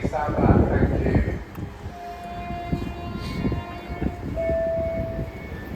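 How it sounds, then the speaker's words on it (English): A freight train passes through Beaulieu Park station at its official opening, a sustained low rumble of wagons with steady tonal squeals and hum, while platform announcements and voices carry over the noise. "Freight train."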